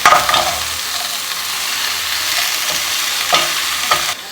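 Food cooks in a hot pan with a steady, fairly loud sizzle, broken by a few sharper scrapes and clatters of stirring near the start and end. No one speaks.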